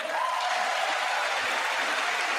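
Applause fills a hall during a State of the Union address: dense, steady clapping from a large audience, even and sustained for the whole stretch.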